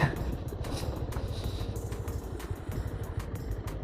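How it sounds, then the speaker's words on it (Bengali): A motorcycle engine rumbles steadily nearby on the road to Furmon hill in Rangamati, Bangladesh, a rough low drone with faint rattling and no voices. "একটা বাইক অলরেডি আসছে আমাদের আগে"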